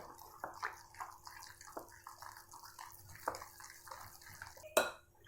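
Water trickles and splashes into a bowl of gram flour and semolina dhokla batter amid soft mixing clinks and a sharp knock near the end.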